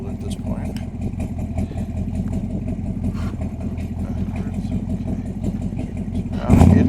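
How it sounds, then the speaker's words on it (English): A 1968 Camaro V8 sits at a normal warm idle, a steady, close, low-pitched rumble that holds evenly, with a voice over it and a brief louder burst at the very end. "it should be regular normal idle at this point."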